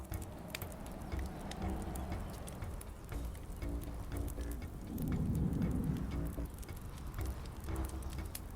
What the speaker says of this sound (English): It's raining! Unbelievable!